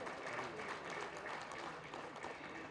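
An audience at a memorial lecture event applauds with a continuous, fairly faint wash of clapping that lasts a few seconds.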